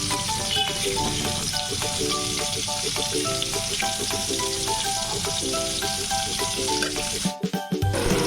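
Ginger paste sizzles and fries with potatoes in a pan, a loud continuous crackling hiss up close, with a brief clatter of stirring near the end.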